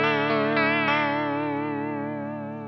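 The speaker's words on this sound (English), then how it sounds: "So it's almost like a tremolo." Tremolo-like wobble from an Electro-Harmonix Mod11 modulation pedal on a sustained, effected guitar chord, the tone pulsing gently a few times, then fading slowly with no voices.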